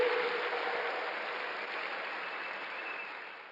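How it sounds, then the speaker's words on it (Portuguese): Steady applause from a church congregation at a Sunday service, a dense wash of clapping that starts loud and slowly thins over a few seconds, with no talk over it. "Vamos dar um aplauso ao Senhor?"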